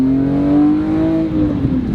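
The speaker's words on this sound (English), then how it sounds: "The exhaust has that little pop." BMW E46 M3 engine pulling steadily under acceleration, a continuous close, loud drone with a slowly rising tone and faint crackle from the exhaust; no voices.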